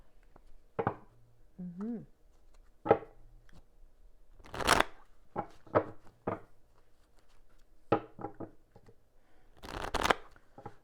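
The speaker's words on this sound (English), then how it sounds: "we're going to look at the tarot cards now" Tarot cards are handled and shuffled in short, crisp riffling bursts separated by quiet pauses, recorded close up, with a brief voice sound in between.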